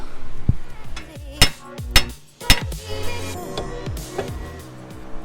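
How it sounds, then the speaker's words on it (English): Sharp metallic hammer blows ring out against a ball joint on a Nissan R34 control arm, a handful of hard strikes spaced irregularly, up close, with clanking and scraping of metal parts in between. "Smack that thing with a hammer and hopefully it comes off."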